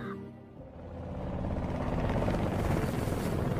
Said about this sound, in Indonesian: Ada pesawat militer yang melintas di dekat rumahnya.